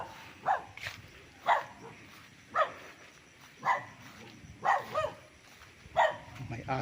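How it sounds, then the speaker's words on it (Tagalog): A dog barks outdoors on a rural farm lot with a creek in Pagsanjan, Laguna: six single barks spaced about a second apart, moderately distant, over light ambient noise. "May aso."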